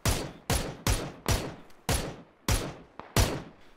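Eight sharp gunshots ring out in PUBG, evenly spaced about half a second apart. Each is a loud, close crack followed by a short decaying tail, with one fainter pop between them near the end.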